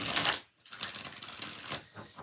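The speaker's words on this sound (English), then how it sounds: "7 shuffles." Tarot cards being shuffled during a reading, a dense crisp riffling burst, then a short pause and a longer run of papery flicking with a brief final flurry.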